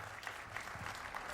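An audience applauds after a speaker is introduced at a conference. The steady, moderately distant clapping of a crowd fills a short burst without speech.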